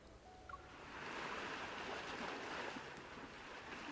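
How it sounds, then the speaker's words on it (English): Ocean waves wash and surge steadily in a boat scene from the Love and Deepspace game, a broad continuous roar that swells after the first second with a faint wind-like hiss. "why do I hear waves on your end?"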